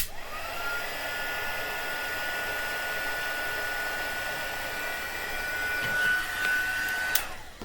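A heat gun blows steadily while reheating embossing powder on a craft tag, a continuous close airy whoosh with a faint high whine, holding level for several seconds before a slight swell and cutoff near the end.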